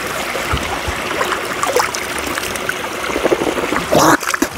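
Cold mountain stream water splashed onto a face by hand in the Murree hills of Pakistan, a few close splashes over the steady trickle and rush of the flowing stream.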